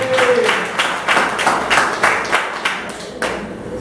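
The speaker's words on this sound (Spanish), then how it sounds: "Den un fuerte aplauso al Señor" A church congregation breaks into loud applause for the Lord, with dense, steady clapping filling the room throughout and quick rhythmic bursts over the top.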